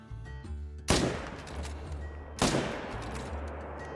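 Two sharp rifle shots at elk ring out in theHunter: Call of the Wild, about a second and a half apart, each loud and close with a long rolling echo that decays into the outdoor background.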